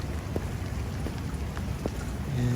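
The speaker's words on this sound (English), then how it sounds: "It's a wet, rainy day." Steady rain falls on a wet December day at an outdoor civic center mall, a dense continuous hiss with occasional sharper drops, close and constant with no talk.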